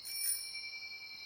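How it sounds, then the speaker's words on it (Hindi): A bicycle bell rings with a bright, sustained metallic tone that lingers and slowly fades, heard alone over a quiet background. "अचानक रास्ते की एक तरफ से घंटी की आवाज आई।"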